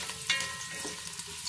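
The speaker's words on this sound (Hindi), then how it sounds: "अब हम ये 2 अदद प्याज ना इसमें अच्छी सी लाल कर लेंगे।" Two onions fry in hot oil for a Hyderabadi korma, a close, continuous crackling sizzle with a small stirring bump partway through.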